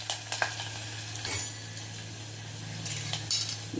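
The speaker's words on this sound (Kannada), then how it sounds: "ಜೀರಿಗೆ ಹಾಕ್ತಾಯಿದ್ದೀನಿ, ಮೆಣಸು." Cumin and pepper sizzle in a pan as a spoon scrapes and clinks against the metal, a steady frying hiss with a few bright stirring knocks.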